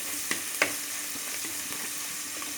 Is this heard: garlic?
yes